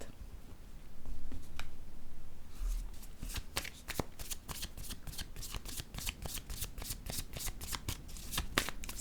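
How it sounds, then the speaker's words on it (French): Tarot cards are shuffled nearby in a continuous run of crisp flicking riffles and taps, close and fairly quiet, with no voices over them. "je vais piger d'autres cartes"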